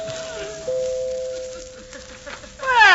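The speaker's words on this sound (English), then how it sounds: "I'll ring the bell." A doorbell in an old radio comedy gives a short ringing tone against a quiet background, followed by brief noise at the end.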